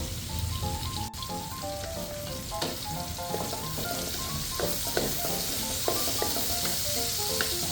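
Reused oil from frying tilapia sizzling steadily in a pan, a busy crackling hiss with occasional sharper pops, close and continuous without any voices.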